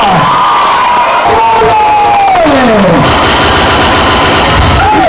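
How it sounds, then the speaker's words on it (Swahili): A loud crowd cheers, shouts and whoops at a national culture week event in 2025, a dense roar of voices with rising and falling yells, close and sustained throughout. "Wapi makofi wakitoka?"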